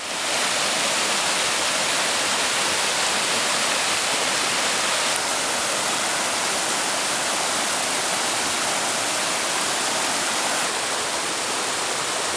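Panther Creek Falls pours in a steady, loud broadband rush of falling water, unbroken and close, with no voices over it.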